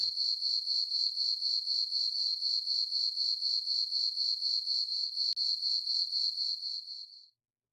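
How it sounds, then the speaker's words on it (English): Steady, close cricket chirping in regular pulsing trills that carry on without pause for several seconds, then stop abruptly, with no other sounds around them. "You hear crickets."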